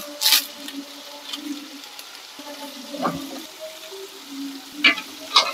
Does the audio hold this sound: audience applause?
no